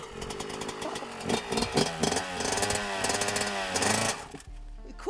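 A dirt bike engine sputters and catches, revving in uneven bursts with loud, rough motor tones rising and falling, then cutting off abruptly near the end.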